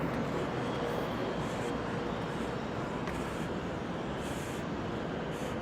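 A train rolls through the Hudson Yards railway station in Manhattan, a steady broadband rumble and rail noise that holds at constant loudness throughout, with no talk over it.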